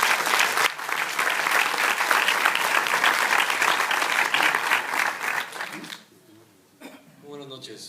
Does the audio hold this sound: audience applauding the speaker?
yes